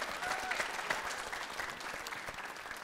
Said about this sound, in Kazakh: Тамаша, шапалақтарыңыз.